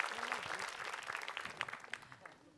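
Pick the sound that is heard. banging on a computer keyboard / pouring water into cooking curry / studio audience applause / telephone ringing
studio audience applause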